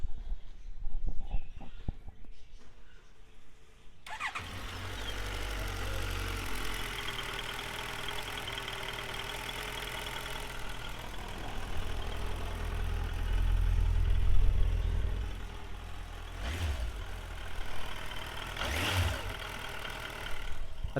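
A stock-exhaust Suzuki Bandit four-stroke four-cylinder motorcycle engine fires up after a few seconds of handling noise, then idles close by with a steady low rumble, briefly swelling louder midway with a couple of quick blips near the end.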